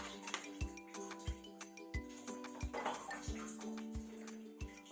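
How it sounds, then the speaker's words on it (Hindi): Metal pot and lid clinking and knocking on a kitchen stove as a lid is set on and the pot is shifted to another burner, a series of sharp, close, ringing taps. "अब मैं इसके ऊपर ढक्कन लगा के इसे कर दूंगी साथ वाले चूल्हे पे"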